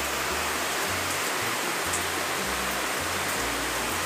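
Heavy rain pours steadily as a dense, even hiss with no voices, a constant wash of falling water from start to finish.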